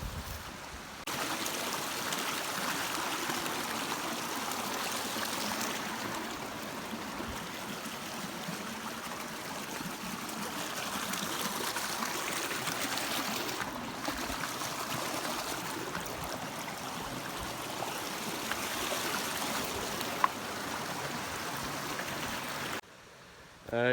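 Creek water runs steadily over rocks in a desert setting, a continuous close rushing and trickling wash that holds nearly unchanged throughout, with no talking.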